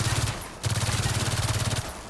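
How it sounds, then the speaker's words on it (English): The shock enforcer SMG in Gears of War 4 fires in two rapid bursts, loud and close, split by a brief pause, with no speech. "it's a shock enforcer. This is a new weapon to the series."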